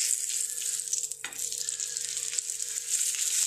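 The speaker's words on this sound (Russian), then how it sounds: "И теперь другой стороной она будет прожариваться дальше до готовности." Trout sizzling in a frying pan after being turned onto its other side, a steady loud crackling hiss running throughout with a brief dip as the fish shifts.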